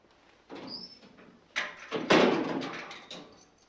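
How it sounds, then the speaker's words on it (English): A door being shut and locked in a quiet room in a 1977 film, with a few distinct clunks and rattles of the door and latch, close and moderately loud, separated by brief pauses. "I think it's better I lock the door"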